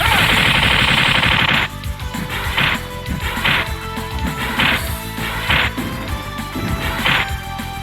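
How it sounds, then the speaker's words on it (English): Rapid, repeated energy-beam blasts and hit impacts in the arcade fighting game X-Men vs Street Fighter, loud and rhythmic, with a bright burst at the start followed by a steady chain of punchy strikes. "Optic blast!"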